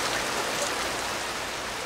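Heavy rain pours outside a workshop on a Thursday morning, a dense, even hiss of falling water that stays constant throughout with no voices.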